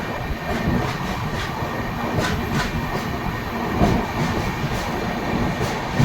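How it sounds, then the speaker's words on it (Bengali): Brahmaputra Mail passenger train rolling slowly into New Alipurduar station on a rainy night, steady low rumble of wheels with soft rhythmic clatter throughout. "রাত 11:40 নাগাদ ধীরে ধীরে আমাদের train new Alipurduar station enter করছে"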